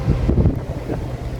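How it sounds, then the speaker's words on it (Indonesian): Strong wind buffets the microphone at a warehouse fire scene, giving a brief, low, rough roar with a couple of gusts swelling and easing. "Kencang anginnya"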